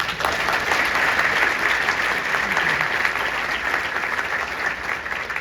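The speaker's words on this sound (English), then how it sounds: "I want us to give that idea, bipartisanship, a round of applause, please." A crowd at an Iowa State Education Association gathering applauds loudly and continuously, a dense, even wash of clapping heard on its own without speech.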